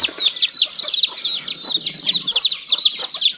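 A flock of chickens in a rural village in Laos clucks nearby, busy overlapping bird calls repeating continuously and loudly, with no one talking over them.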